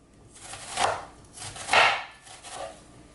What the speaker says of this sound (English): so I'm done cutting my onion